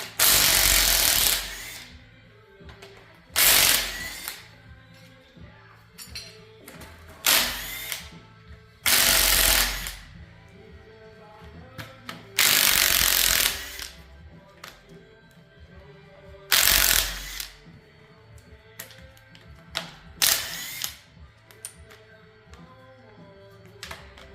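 A socket ratchet wrench works on an old Chevy 350 engine: repeated bursts of rapid clicking ratchet spins, several seconds apart, each loud and near, with quieter clanks and tool handling in between.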